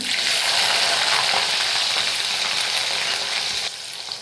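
Fenugreek seeds and shallots fry in hot oil for a bitter gourd tamarind curry, a dense, close crackling sizzle that runs steadily and drops slightly in level near the end.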